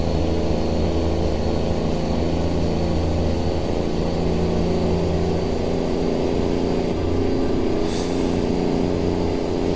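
A Cummins N14 diesel engine in a Freightliner truck hauling a Great Dane reefer trailer in American Truck Simulator, droning steadily and loudly with a constant low rumble and faint high whine, no speech.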